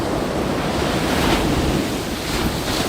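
Ocean waves at Shonan Hiratsuka beach roll in as a constant loud roar of surf and wind, with no voices.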